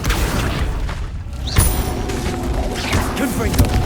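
A Confringo blasting spell in Hogwarts Legacy: a booming explosive burst in mid-combat, with thuds and crashes layered over a dense, loud background of battle noise, and a voice speaking over parts of it.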